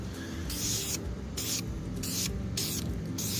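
Spray can applying a coat of flame-proof VHT paint to a Land Rover Defender 90 part, with several short hissing bursts in an uneven rhythm, each lasting about half a second, close and steady over a low background hum.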